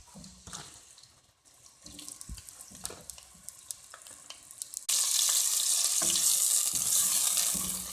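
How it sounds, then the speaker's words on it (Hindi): Finely chopped onions, two medium ones, fry in half a cup of oil in a pan. Quieter clatter comes first, then a loud sizzle bursts in midway and holds steady. "अब मैंने पैन में हाफ कप ऑयल डाल दिया है, और इसमें मैं डालूंगी 2 मीडियम साइज़ की बारीक कटी हुई प्याज"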